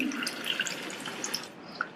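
Drained lentil cooking water poured into a pan on a stove, heard as a light, close trickle with scattered drips and splashes, quiet and alone without talking.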